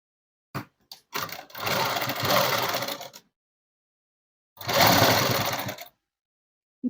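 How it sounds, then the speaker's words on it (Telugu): Sewing machine stitching a net cloth dress, a close, loud steady run of about two seconds after a few short starts, then another burst a second later, with quiet gaps between. "ఇక్కడ నుంచి ఇలా పెట్టేసుకొని కుట్టు అనేది వేసేసుకున్నాము."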